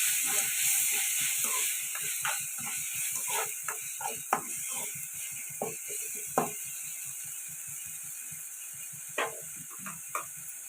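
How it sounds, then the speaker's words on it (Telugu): Tomatoes with salt sauté in a pan, a continuous sizzle under rapid, rhythmic scraping and stirring strokes from a spoon, with a few louder knocks against the pan. "టమాటా కూడా ఇలా మగ్గుతుంది కదండి."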